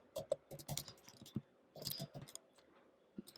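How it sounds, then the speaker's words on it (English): Rapid clicks of computer keyboard typing in short bursts with brief pauses, close and fairly quiet, no talking. "Let me just type it."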